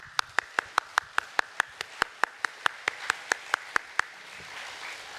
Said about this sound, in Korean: 우리 하나님께 박수 올려드립시다.